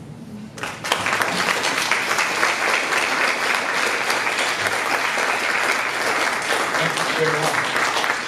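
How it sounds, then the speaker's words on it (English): Audience applause after panelists at a teen workshop on fentanyl, a dense steady ovation that swells in within the first second and carries on evenly to the end, full and close. "Let's give a big round of applause to our distinguished panelists this evening"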